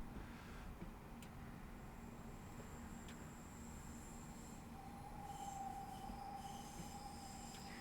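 A train in the Train Sim World game rolls through Birmingham New Street station on the Cross City line, with a steady low rumble of running gear and faint squealing wheels, no voices.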